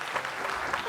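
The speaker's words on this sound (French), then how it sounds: "On va l'applaudir très fort, s'il vous plaît." An audience applauds warmly at a live televised talk show as a guest is invited up, a steady, dense patter of many hands clapping for under a second, moderately loud and continuous.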